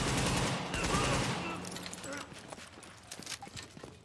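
A SCAR rifle in The Division fires a loud rapid burst of shots that quickly tails off into scattered fainter reports and echoes.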